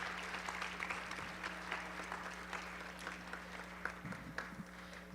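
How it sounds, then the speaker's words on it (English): Applause for a school musical cast of Footloose at a public school board meeting: soft, distant, steady clapping from a room audience over a constant low electrical hum, with a few louder thumps near the end. "1 more round of applause for the cast of Footloose."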